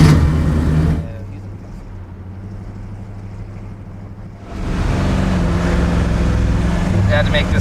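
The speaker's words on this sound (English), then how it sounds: "It's got a real nice throaty sound to it that you'll hear once we start it up" A car fitted with Sanderson headers and a Flowmaster exhaust runs with a low, throaty rumble, quieter at first and then swelling louder and rougher as it moves off, with a faint voice near the end.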